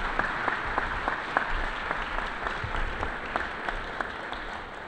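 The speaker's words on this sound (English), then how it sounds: "Mr. Saul, let's give him a round of applause" Audience applause at the official introduction of basketball coach Steve Prohm for the Racers men's team, a steady, dense wash of clapping with scattered sharper claps, sustained evenly throughout at moderate level.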